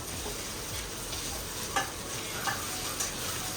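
Rice and greenish fried onions sizzle in a pan while being stirred slowly, a soft steady frying hiss with a few faint scraping clicks, no voices.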